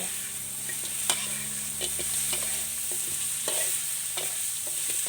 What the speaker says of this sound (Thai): ตามด้วยผัดกระเพราทอดกรอบของเรา